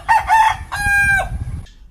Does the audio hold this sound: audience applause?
no